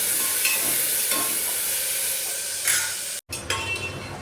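Potatoes and tomatoes with dried chillies and panch phoron sizzle steadily in a hot pan, a continuous close frying hiss broken by stirring scrapes and a brief pause near the end.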